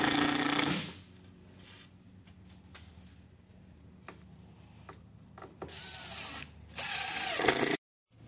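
A power drill drives screws to fasten a saw to a tabletop, with a loud opening burst of drilling, a stretch of quiet clicks and taps, then two more sharp, close drill runs before an abrupt stop.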